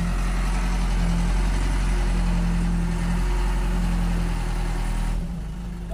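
An engine that has just started on a truck in an Indonesian audio rental crew's loading setting idles with a loud, steady, low rumble and drone that drops away sharply near the end.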